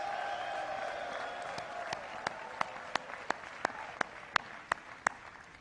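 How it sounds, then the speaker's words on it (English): A graduation crowd at the 2013 Morehouse College commencement applauds in a broad sustained wash, thinning out as sharp tapping knocks mark time near the microphone, fairly distant and without speech. "give a big round of applause to your family"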